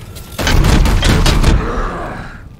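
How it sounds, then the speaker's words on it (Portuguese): A rapid burst of loud, echoing gunfire from the video game Warhammer 40k: Chaos Gate - Daemonhunters lasts about a second, then fades into a decaying reverberant tail. "toma uns tiros e morre depois"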